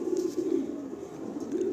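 Two female pigeons at a pigeon sale cooing in a low, steady warble that rolls on without pause and sits close and moderately loud, with no talk over it.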